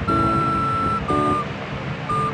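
Toy ride-on car making electronic beeping: a high steady tone repeats three times in an even rhythm, close and fairly loud, over a rough background of indoor noise with no talk.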